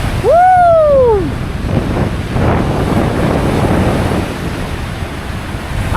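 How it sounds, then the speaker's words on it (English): Powerful wind buffeting on a cold, empty beach at Lake Tahoe, a loud, constant roar against the microphone, opened by a rising and falling whistled whoop. "And the wind is so powerful."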